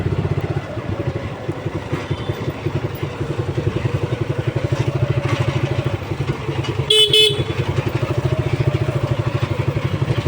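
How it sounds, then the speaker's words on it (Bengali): A vehicle horn honks in a steady, insistent run amid loud road traffic and engine rumble on a broken road, with a brief sharper burst near the end. "এটা হর্নটা প্রয়োজন নাই"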